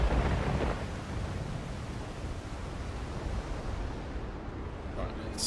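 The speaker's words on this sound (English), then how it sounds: "let's use this bed and get out of this thunderstorm" A thunderstorm with rain in a pirate sailing game, a steady broad roar of rain and wind with low rumbling thunder, loudest at the start and then holding even.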